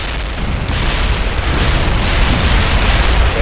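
Airstrike explosions in the war game World in Conflict roll together into a loud, continuous rumbling barrage, with dense booms and crackle that never fully stop.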